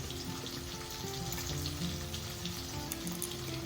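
Fish fries in hot oil in a home kitchen, a dense continuous sizzle and crackle close by, with faint clinks and no speech.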